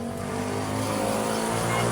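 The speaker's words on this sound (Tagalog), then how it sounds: "Yun nga, maraming sasakyan, mga motor." Cars and motorcycles pass along a roadside street beside a barbecue stall, a steady close engine rumble rising slightly toward the end.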